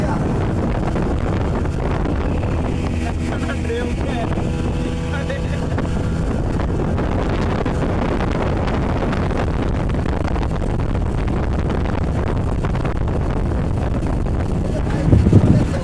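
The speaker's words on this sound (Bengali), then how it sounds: "স্পিড বোর্ডে করে যাচ্ছি আমরা অনেক দূর হবে" A speedboat rides across the sea toward Maheshkhali island, its motor droning loudly and steadily under heavy rushing wind and water noise, with a voice talking faintly over the din.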